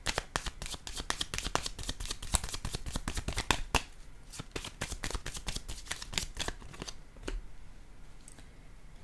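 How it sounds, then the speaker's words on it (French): Tarot cards handled over a table: a quick run of crisp, close card snaps and flicks, thinning out to a few separate taps near the end, with no talking. "Je vais déposer une carte ici"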